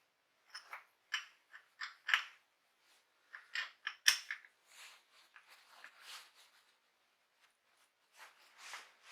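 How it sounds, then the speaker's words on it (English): A hook wrench tightens a block onto a milling machine with a series of close, sharp metallic clicks and ratcheting scrapes in short bursts, separated by brief quiet gaps. "lock it down with the spanner, or hook wrench in this case"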